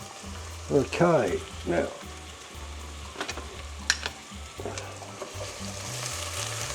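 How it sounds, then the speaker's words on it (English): Onions sizzle and crackle in hot oil in a pan while being lightly browned for baked rice, a steady frying hiss under brief nearby talk and a few utensil clinks. "we just want to lightly brown these onions"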